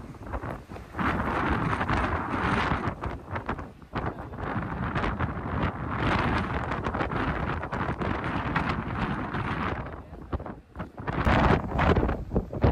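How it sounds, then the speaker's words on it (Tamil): Strong gusty wind at sea roars and buffets the microphone continuously aboard a deep-sea fishing boat, with deep rumbling and occasional harder blasts. "காற்று அதிகமாக தான் அடிக்கி."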